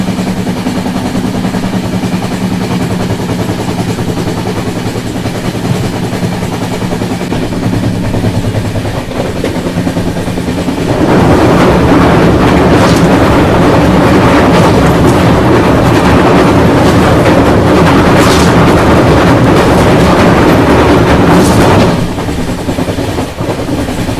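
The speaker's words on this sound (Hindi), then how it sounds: "अभी सामने से आ रही है new Tinsukia Amritsar express web 7 के साथ।" The New Tinsukia Amritsar Express rushes past on the next track, heard from inside a moving train: a steady rumble of wheels first, then a loud roaring swell of passing coaches for about eleven seconds before it fades.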